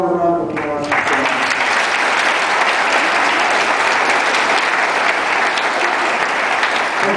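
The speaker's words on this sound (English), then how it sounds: "So, one more round of applause." Audience applauding at a Quad Cities Marathon event, loud, dense and sustained clapping from a large crowd lasting several seconds, with a voice briefly audible at the very start.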